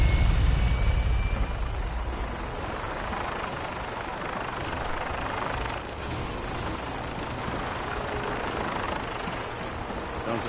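A gunship helicopter in the video game Fallout 4 flies close by, its steady rotor and engine roar filling the scene, loud at first and then holding a constant drone with no talking.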